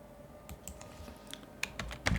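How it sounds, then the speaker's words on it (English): Quiet, sparse keystrokes on a computer keyboard as a password is typed on a Linux Mint machine, a handful of soft separate clicks growing a little louder toward the end. "type in your password"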